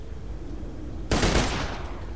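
A burst-fire gun in Borderlands 2 fires a quick, loud volley of close shots that starts abruptly midway and rings out briefly, after a stretch of quiet game ambience.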